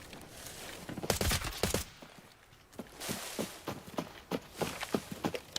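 Gunfire in Arena Breakout: Infinite, bursts of sharp cracks in rapid clusters, some loud and close, others spaced out, with a brief lull in the middle.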